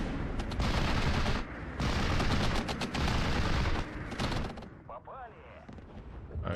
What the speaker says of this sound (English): here comes the bomber for the strafe